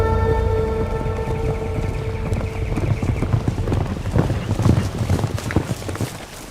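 Horses' hooves clip-clop in a quick, irregular clatter of many close strikes, alongside a low rumble in a film scene.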